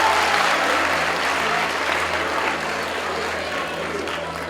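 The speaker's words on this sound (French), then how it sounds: "Alors on applaudit très très fort." Loud, continuous applause at an awards ceremony for young talent, with a full room clapping steadily under a low background hum and tapering slightly toward the end.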